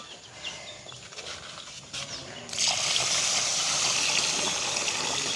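Water is poured onto rice to wash it in a village kitchen; after a quiet stretch with faint clinks and rustles, a steady splashing gush of water starts and continues fairly close.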